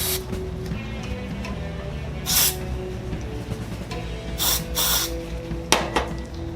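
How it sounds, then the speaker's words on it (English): Short bursts of aerosol spray hiss in quick spurts into a tubeless mountain bike tire, several separate blasts mixed with faint mechanical clicking and handling noises. "I'm squishing this and making sure that the spray is going in the cavity."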